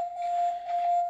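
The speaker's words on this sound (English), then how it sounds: "That noise you hear is the alarm system because there are low batteries in some of the systems." A home alarm system's low-battery beep inside a house in Sarasota, Florida: a steady, piercing electronic tone held for about a second, with faint room background.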